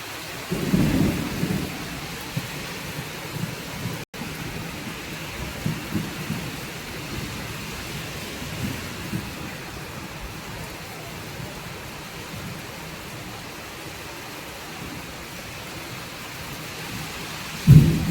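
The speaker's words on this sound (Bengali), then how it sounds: "খুব জোরে বাজ পড়ছে" Steady heavy rain roars throughout, with deep rumbles of thunder rolling in near the start and again at the end.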